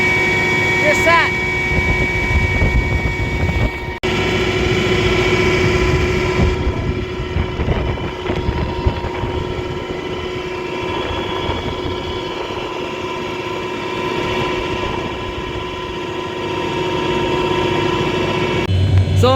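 A farm tractor engine runs steadily throughout on a farm after a wind storm, a continuous droning idle with a few brief clunks.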